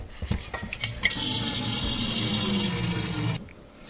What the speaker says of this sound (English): If that sounded like a lot of water, it was, because I boil a kettle full